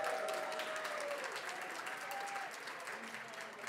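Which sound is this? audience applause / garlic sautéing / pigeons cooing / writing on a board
audience applause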